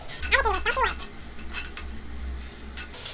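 Guanciale rendering in a pan, with a couple of scraping stirs and metallic clinks of a spoon against the pan at the start, then a soft low sizzle continuing beneath.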